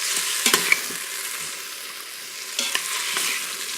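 Goat meat sears in a pan, a steady broadband sizzle running throughout with a few sharp clicks and scrapes of a utensil, no voices.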